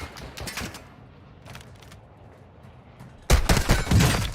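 Bursts of video game gunfire crackle in rapid volleys, with a quieter stretch before a loud, dense barrage of shots at the end.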